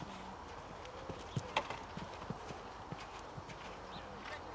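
A big bay show jumping horse moves around an indoor arena in an amateur class, its hooves thudding in an irregular clip-clop of separate beats, moderately near, under a quiet background with faint voices.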